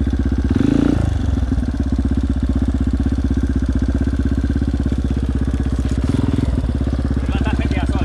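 A trail motorcycle engine, an old KTM, runs close by with a steady chugging idle and brief revs, with people talking over it at times.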